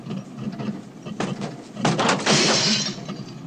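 Someone bangs on a stuck car window from outside, with a few dull knocks and rattles building to a louder, sustained crash-like burst near the end.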